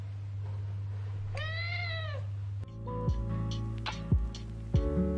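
Several cats meow near the microphone at feeding time: one clear drawn-out meow, then a steady hum broken by a few short meows and clatters, with no talking.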